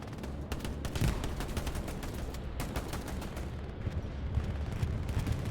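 Heavy bombing-run explosions in the World War II shooter game Hell Let Loose, a dense, continuous barrage of booms and rumbling blasts with sharp cracks scattered throughout.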